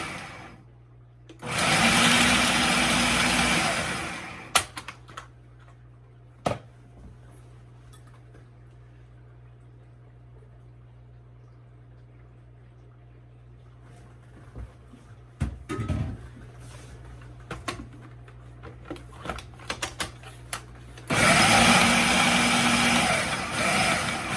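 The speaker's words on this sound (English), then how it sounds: "So I am going to chop up the nuts" A kitchen appliance chopping nuts for grain-free granola bars: two loud whirring bursts of a few seconds each, with a quiet stretch between holding a low hum and scattered clicks and knocks.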